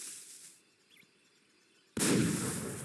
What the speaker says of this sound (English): a booming shotgun gunshot is heard by all